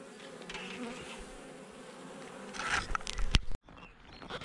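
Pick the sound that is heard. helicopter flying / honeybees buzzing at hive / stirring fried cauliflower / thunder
honeybees buzzing at hive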